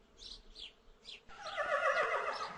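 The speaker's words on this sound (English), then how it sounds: "This is a horse." A horse neighs and whinnies, with a few short high calls first and then a longer, louder, shaky whinny that fills the rest, close by and with no talk over it.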